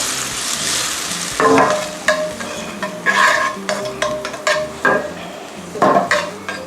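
Mint jelly with prawns simmering over low heat in a pan, with a soft bubbling hiss under repeated close stirring and utensil scrapes against the pan at an uneven rhythm.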